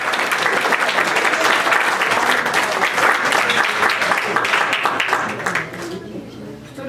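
Audience applause for the third-place winner at a Polish Christmas wafer gathering in Chicago, a dense and loud clapping that fades near the end as talk resumes.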